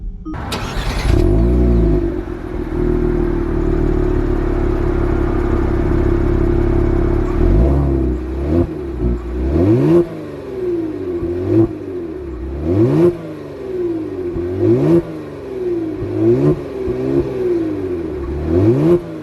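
A 2021 Kia Stinger GT2 car starts up with a loud burst, idles, then pulls away and accelerates hard through several rising gear-change sweeps, close and alone.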